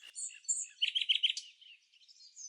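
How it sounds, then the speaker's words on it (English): Black crake, a small glossy black wetland rail with a red bill, giving a close run of high chirping and rattling calls, with a rapid burst in the middle, alone with no other sound. "Meet the black crake, a small but fiery wetland bird"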